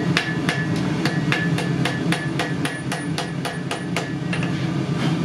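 A blacksmith hammers a knife blade on an anvil in a forge, with about fifteen sharp, evenly spaced metallic strikes in a steady rhythm over a constant background rumble.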